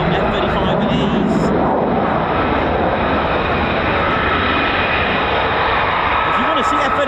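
An F-35E fighter jet at an RAF base roars loudly and continuously, a broad steady engine rumble filling the whole stretch, with people talking faintly underneath.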